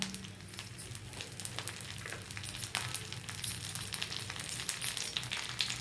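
Shallots, dried red chilies and garlic sautéing in hot oil in a pan, a steady close sizzle and crackle with faint stirring scrapes, no voices.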